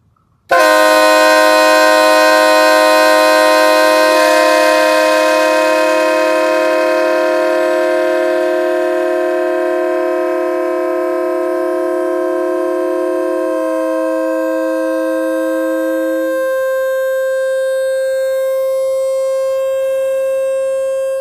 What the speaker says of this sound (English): I can throw in a video of what my current train horn sounds like